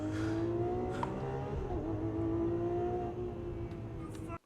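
A Porsche 911 Turbo S engine holds a steady, loud rev nearby, a smooth sustained drone with slight pitch shifts that cuts off abruptly at the end.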